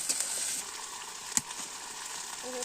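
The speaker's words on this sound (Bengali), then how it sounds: "ভালো করে কষিয়ে নেব মাংসগুলো।" Meat sautéing in a pan, a quiet steady sizzle with a single sharp clink of a utensil partway through.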